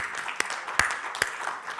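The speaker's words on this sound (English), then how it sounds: "Please give yourselves a round of applause." Applause from a conference audience, a short burst of many hands clapping at moderate level with a few sharper claps standing out, no voices over it.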